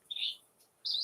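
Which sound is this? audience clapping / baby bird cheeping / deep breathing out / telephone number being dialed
baby bird cheeping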